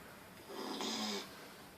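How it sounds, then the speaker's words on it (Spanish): A pet dog snores with its eyes open, one long rasping inhale swelling and fading near the microphone in an otherwise quiet room. "Este perro ronca con los ojos abiertos."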